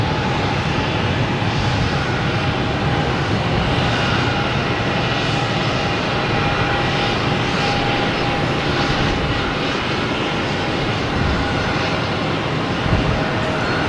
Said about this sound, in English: We now have a Delta lined up, flight 514, heading to Phoenix,